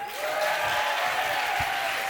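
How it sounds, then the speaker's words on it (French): An audience claps in sustained applause, a full, even roar of many hands that holds steady from start to finish. "on peut les applaudir s'il vous plaît"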